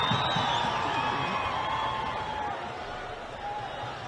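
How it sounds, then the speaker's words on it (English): Stadium crowd at a Pakistan versus Afghanistan football qualifier roars and cheers in a sustained wash that swells early and gradually eases, with whistles and shouts carried over the broad noise. "Haris Zaid comes to the rescue from loud cheers from the crowd."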